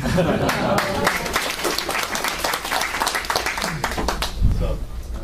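Audience at a conference session claps together in a steady, dense wash of applause that runs the whole stretch, with voices mixed in and a brief low thump near the end.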